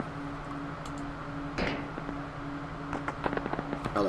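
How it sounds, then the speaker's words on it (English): Gunfire in the military shooter game ARMA Reforger, a few faint distant pops and a short scattered cluster of sharp reports over a steady low ambient hum. "I hear gunshots."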